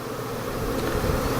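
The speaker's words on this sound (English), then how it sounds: "I wanna look for signs of the bees starting to fan." A honeybee swarm fans and buzzes close by in a steady, dense drone that holds evenly without a break.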